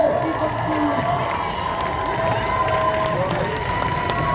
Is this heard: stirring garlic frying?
no